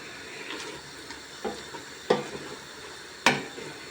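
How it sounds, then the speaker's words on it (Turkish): Spinach sautéing in a pot, a soft steady sizzle broken by a few sharp scrapes and clinks of a utensil against the pot, quiet and close, with no voices. "Ispanaklarım da kavruldu sayılır"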